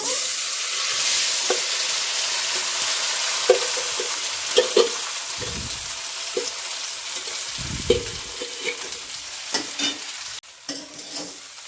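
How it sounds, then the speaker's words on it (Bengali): Rice fried in a pan with whole garam masala for homemade pulao gives a steady close sizzle, broken by repeated scraping stirs and light clinks of the spoon. "শুধু চালগুলোই যেটা মেখে নিলাম দেখালাম সেটাই ভেজে নিয়েছি"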